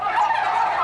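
Several Californian-raised turkeys gobble in a dense, continuous chorus, loud and close, with no talking over them.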